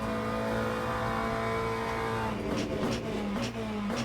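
A race car passes on the right during a race, its engine note rising and sweeping by over a steady onboard drone, with crackling bursts as it pulls alongside.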